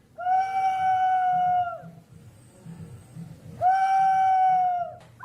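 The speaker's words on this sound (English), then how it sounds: "These whistling jars make different animal sounds." Two long, shrill whistling hoots from whistling jars, with a wavering, animal-like tone, separated by a pause with low murmuring voices in the background.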